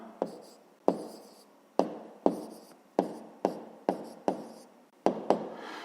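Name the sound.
writing numbers by hand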